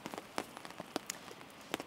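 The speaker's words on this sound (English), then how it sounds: "there's still rain on the tarp" Light rain falls on a camping tent tarp in misty weather, scattered drops tapping irregularly and close by, sharp individual pats over a soft hiss, with no voices.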